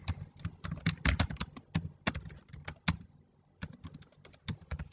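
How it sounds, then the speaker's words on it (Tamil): A computer keyboard clatters as someone types data into an Excel spreadsheet: quick, irregular bursts of crisp keystrokes with short pauses between runs, close and fairly quiet, with no talking. "இந்த மாதிரி டேட்டா டைப் பண்ணுங்கள்."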